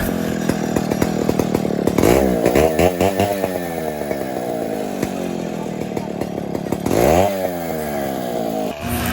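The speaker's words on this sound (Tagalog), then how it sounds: "At dito nga sinimulan ng chainsaw ang puno ng buko" A chainsaw runs loud and close, its engine rising and falling as it bites into a coconut tree trunk, with a voice faintly audible underneath.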